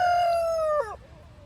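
A rooster from a backyard farm flock crows once, loud and close. The call rises and holds, then drops off sharply, leaving a quiet hum of outdoor background.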